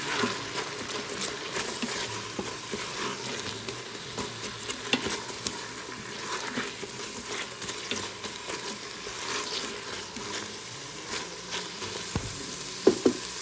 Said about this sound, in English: Onions are in. Toss those around and kind of clean off the bottom of the pan